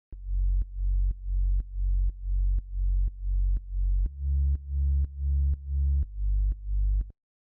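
Synth bass line built from two sine waves, made in Ableton's Operator for a gritty lo-fi house track, plays root notes of the chords as thirteen evenly spaced, deep sustained notes, loud and alone, stepping down in pitch midway.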